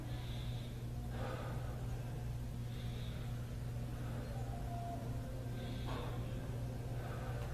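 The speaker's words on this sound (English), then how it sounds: "Keep breathing." Heavy rhythmic breathing during a yoga pose, deep audible inhales and exhales repeating every couple of seconds over a constant low hum.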